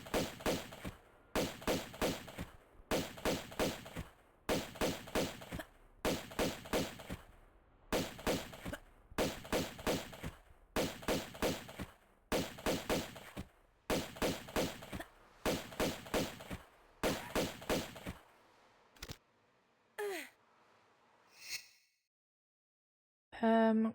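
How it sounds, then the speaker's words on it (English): In the Tomb Raider Remaster game, about a dozen evenly spaced bursts of rapid gunfire crackle out one after another, fairly quiet. They stop, followed by a few scattered clicks and short effects. "I've just been shooting at nothing."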